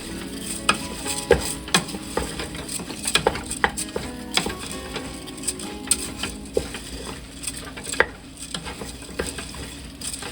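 Jasmine rice being stirred into a pot of jambalaya with shrimp, sausage and chicken, giving irregular scraping and clattering strokes over a steady low sizzle, close and moderately loud.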